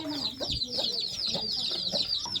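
A hen clucks low and repeatedly while her chicks keep up a constant stream of high, rapid peeping around her in a village home yard, close and steady throughout.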